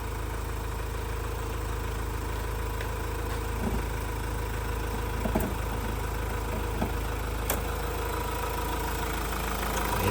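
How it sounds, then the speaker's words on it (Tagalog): A car engine idles steadily with the hood open, a continuous low hum with faint mechanical ticking running unbroken and fairly close, with no talk over it. "Ayan ang makina."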